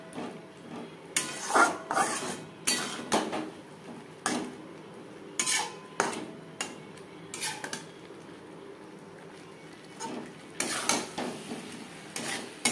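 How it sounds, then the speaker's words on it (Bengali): Potatoes are stirred into spice masala in a pan for vegetarian alur dum, with irregular scraping and clattering strokes of a utensil against the pan and a faint sizzle between them. "মশলার সাথে আলু বেশ ভালো করে মিক্সড করে দেবো।"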